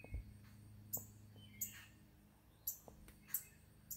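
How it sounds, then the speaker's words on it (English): Outdoor squirrel chatter in a yard, a series of faint, sharp high-pitched chirps and squeaks spaced irregularly over a low ambient background, distant and quiet with no talking. "I believe that's a squirrel."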